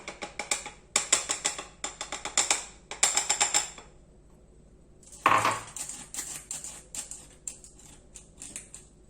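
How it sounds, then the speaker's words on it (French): Flour is stirred into a batter in a bowl with a whisk or utensil, giving bursts of rapid rhythmic clicking and tapping against the bowl, close by, with short pauses and a single louder knock. "Maintenant, je rajoute la deuxième partie de ma farine."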